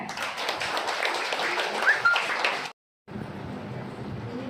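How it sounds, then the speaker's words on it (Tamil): Audience at a Tamil women's poetry recital breaking into steady applause, a dense patter of many hands that runs for nearly three seconds, cuts out briefly, then resumes more faintly. "கைத்தட்டுங்க."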